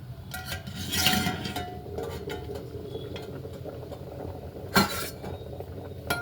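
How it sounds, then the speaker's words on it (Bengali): A lid comes off a pot of cooking rice with lentils: a faint bubbling simmer underneath, with two sharp metallic clanks of the lid knocking against the pot, close by. "বন্ধুরা চলুন দেখি ঢাকাটা খুলে ভাতটা কতটা হলো।"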